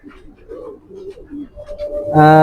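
A pair of racing pigeons coo softly in a few short low calls, then a loud, sharp tonal burst in the last fraction of a second, close by.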